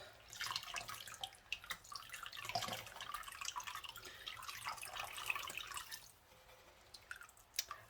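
Water drips and trickles in quick irregular patters as freshly dyed yarn is wrung out by hand, fairly close and quiet, with no voices.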